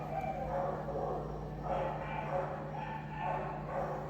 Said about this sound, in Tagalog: Nagsa-start na naman yung aso guys.